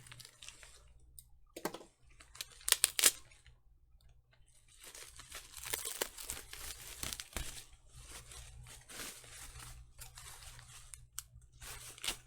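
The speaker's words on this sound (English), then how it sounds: "as I get this wrapping off" Plastic wrapping is peeled and torn off a cheap Amazon sim racing handbrake in bursts of crinkling and ripping, with quiet pauses between pulls, close by.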